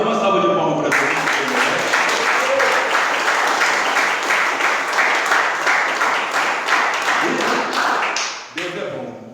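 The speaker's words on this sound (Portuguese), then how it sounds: "Dá uma salva de palmas para Deus." A church congregation applauds steadily and loudly for about eight seconds as a collective clap, then the clapping fades out with faint voices returning at the end.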